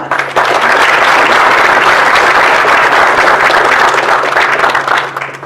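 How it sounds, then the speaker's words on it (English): Loud, dense audience applause at an international trade awards ceremony, a sustained wash of many hands clapping at full strength for several seconds before easing slightly at the end. "Let's give them a round of applause"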